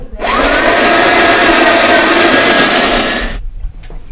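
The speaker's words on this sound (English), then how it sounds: "I'm going to grind the rest of the coffee, so we won't be able to listen to the other conversation" Electric grinder grinding coffee beans, a loud steady whir running continuously for about three seconds before cutting off abruptly, leaving near silence.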